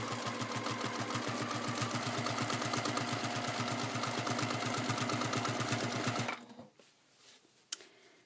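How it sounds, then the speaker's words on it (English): Sewing machine stitching in the ditch on a quilt block, a fast steady rhythmic chatter running continuously for several seconds up close, then stopping abruptly into quiet handling noise. "what I'm going to do is actually stitch in the ditch along the triangle and the colored piece back to the side that I just started on."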